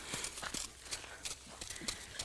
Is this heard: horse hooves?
yes